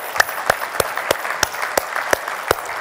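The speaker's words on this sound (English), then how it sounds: "So I'm going to ask for a round of applause so we can stay on time." Sparse, evenly spaced claps, about eight crisp hits, ring out in a conference hall as a small audience offers a brief round of applause after a supplier keynote panel.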